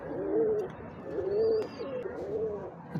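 Very young Kamagar pigeon chicks coo in three slow, wavering phrases with a thin high cheep between them, close and clear with no talking.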